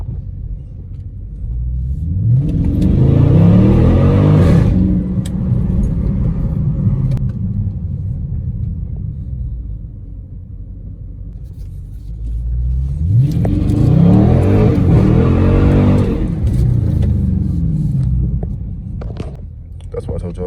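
A widebody Dodge Scat Pack roars loudly on a wet road in the rain, rumbling hard in two strong surges with a quieter lull between them, while voices talk over it.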